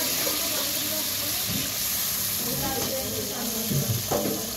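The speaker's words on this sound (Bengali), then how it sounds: "এবার আমি এর মধ্যে ওই মশলার বাটি ধোয়া জলটা একটু দিয়ে দেবো" Water from rinsing a spice bowl is poured into a hot cooking pan. It makes a soft, continuous hiss and bubbling sizzle, with a few splashy bursts near the end.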